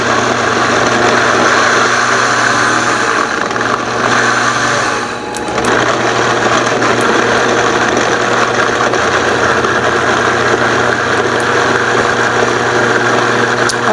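An electric grinder grinds ingredients for Christmas cookies with a loud, steady motor whir that runs nonstop, dipping briefly once before resuming at full strength.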